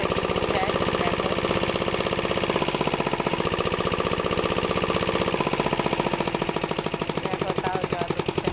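A water pump machine runs with a rapid, loud mechanical knocking pulse while failing to lift any water, steady throughout with slight shifts in its low tone.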